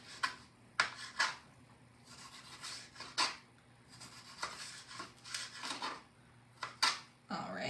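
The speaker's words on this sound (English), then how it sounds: "I'm just doing pretty thin slices because it is a salad" A knife slices fennel into thin slices on a board, producing a quiet, irregular series of crisp crunchy cuts and taps with brief pauses between strokes.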